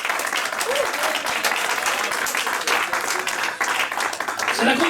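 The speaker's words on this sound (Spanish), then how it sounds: "Entonces denle un aplauso al Señor." A church congregation bursts into loud, sustained applause during a Spanish-language sermon, dense clapping filling the room for several seconds, with a voice faintly audible beneath.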